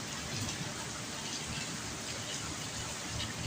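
Steady rain falls outside a balcony, a dense, even hiss of drops and splashing water that continues without a break.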